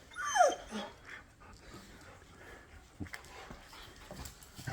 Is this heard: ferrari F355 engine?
no